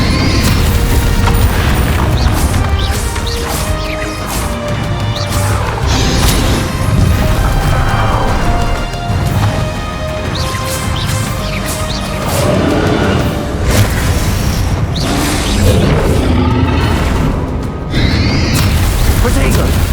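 Bombarda spell explosions in Hogwarts Legacy sound as loud booms and crashing bursts within a dense, constant mix of battle effects and music, with voices talking throughout.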